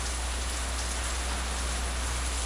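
Heavy rain pours during a typhoon as an even, unbroken hiss, loud and dense from start to finish with no voices.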